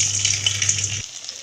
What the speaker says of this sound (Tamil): இப்போ எண்ணெய் சூடாகிடுச்சு. இப்போ நம்ம ஒன்று ஒன்றா போட்டு பொரிச்சு எடுத்துக்கலாம்.